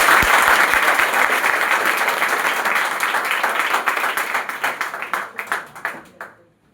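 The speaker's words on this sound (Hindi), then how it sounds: "ये तालियों की खड़खड़ाहट बता रही है" Loud applause from a crowd at a coaching centre's student award ceremony in Bihar, many hands clapping steadily before thinning into scattered claps and fading out.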